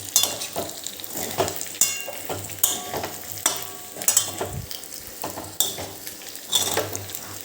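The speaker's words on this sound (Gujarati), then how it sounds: "હવે ઉપરથી થોડા લીલા દાણા એડ કરીશું અને એને હલાવી લઈશું" Green peas are stirred into khato lot, a savoury gram flour dish, in a pan: a soft sizzle sits under repeated scraping strokes of a spoon against the metal, close and rhythmic, with no one speaking.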